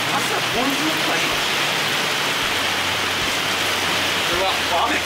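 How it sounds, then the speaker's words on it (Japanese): Heavy rain pours down during an outdoor barbecue of Bungo beef and grilled vegetables, a loud, dense, unbroken hiss close by that fills the whole stretch. "うわ、雨。"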